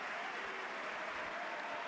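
A football stadium crowd at a Barcelona versus Valencia league match cheering and applauding, a faint, distant wash of sustained roar and clapping with no clear voices.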